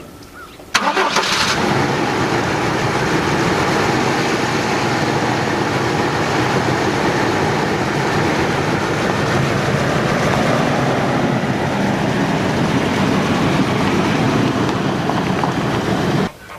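A 1996 GMC Sonoma pickup runs after sitting six years, with one cylinder misfiring. The engine catches with a sharp start and then holds a loud, continuous rumble until it cuts off at the very end.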